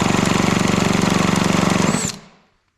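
A vintage Homelite Zip chainsaw with a stuck engine runs briefly in a rapid, loud, rough putter. It then sputters out and dies, ending in silence.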